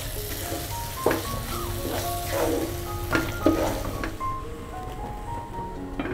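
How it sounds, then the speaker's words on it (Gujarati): Spiced paste stirred into softened tomatoes in a hot kadai while cooking a Gujarati brinjal and potato curry, giving steady sizzling with a few louder scraping stirs of a spoon against the pan. "હવે આપણે તેમાં આ પ્રિપેર કરેલી પેસ્ટ એડ કરી દેશું અને તેને સરસ રીતે મિક્સ કરી દેશું"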